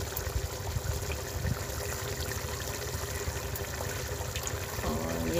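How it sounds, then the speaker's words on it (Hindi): Tap water trickles steadily while fresh coriander is rinsed in a village kitchen, a continuous close splashing stream with no voices over it. "ये देखिए धनिया धो रही है।"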